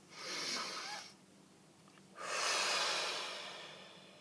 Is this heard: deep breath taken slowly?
yes